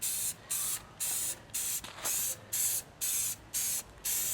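Spray paint hissing onto a homemade PVC fire hydrant geocache, about nine short, even bursts of close aerosol spray separated by brief pauses in a regular rhythm.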